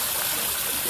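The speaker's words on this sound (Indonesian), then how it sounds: "Kita coba melihat air, debit air, keluar air dari keran." Clean water from a drilled well gushes steadily from a tap at an outdoor washing area with many taps, a loud, close, continuous rushing with no talking.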